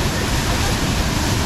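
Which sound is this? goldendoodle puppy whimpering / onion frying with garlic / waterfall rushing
waterfall rushing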